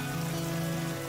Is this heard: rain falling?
yes